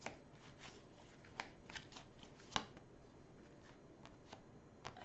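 Witch's Tarot cards are shuffled by hand in a quiet room, giving soft papery riffles and several sharp card snaps spread irregularly over a few seconds, close and faint.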